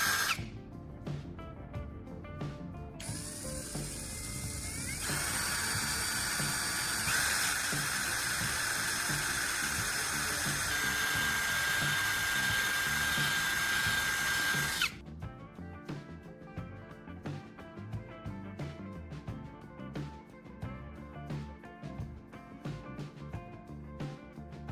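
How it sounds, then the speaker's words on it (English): A power drill bores a hole through a plastic charger cover, with a loud sustained whine over about ten seconds, bracketed by lighter handling clicks and taps. "Now we're going to drill a hole right in the center of the cover, just wide enough to fit the threaded end of the signal splitter."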